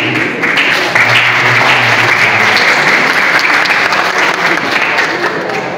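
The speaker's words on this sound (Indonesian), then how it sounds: "Kita kasih applause untuk Ibu Maria" A crowd applauds the painter Ibu Maria Pratiwi at the opening of her solo exhibition "SpeAK up" at Balai Budaya, with dense, steady clapping that stays loud throughout.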